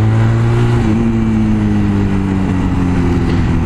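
A Honda Rebel motorcycle with a freshly fitted clutch pack runs loud and close while being ridden, its engine droning steadily with the pitch sliding down and shifting as the revs change.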